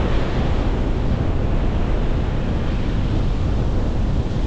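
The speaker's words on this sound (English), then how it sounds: "It's windy and kind of rough out here," Rough sea surf churns beneath strong wind buffeting the microphone on a fishing trip off Florida, a loud, constant roar with no voices.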